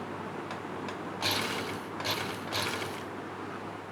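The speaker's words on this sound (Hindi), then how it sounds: "अब जो बुकरम है उसके साथ साथ हमारी सिलाई लगे।" A sewing machine stitching a buckram collar runs with a steady mechanical whir and a few brief louder surges of stitching, close and alone.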